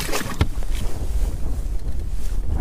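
Strong wind of about 25 miles an hour buffets the microphone in continuous low rumbling gusts on a lake, with a faint sound of water and a fishing boat moving underneath.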